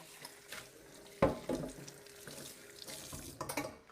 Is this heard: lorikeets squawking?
no